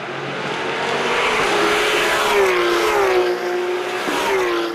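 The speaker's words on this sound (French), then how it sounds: "Sur la toute nouvelle 992 Cup, van der Voestin semble très à l'aise." Porsche 992 Cup and 991 Cup race cars run hard on the Val de Vienne circuit, a loud sustained engine roar with rising and falling pitch as cars accelerate and shift, steady and close throughout with no voices.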